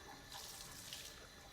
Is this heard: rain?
no